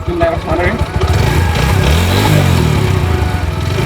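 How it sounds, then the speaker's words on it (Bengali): An uncle's motorcycle being ridden: a loud, steady engine drone runs close and unbroken from start to finish, with a voice faintly under it. "গাইস এখন হচ্ছে আমি আমার চাচুর বাইকটা চালাবো"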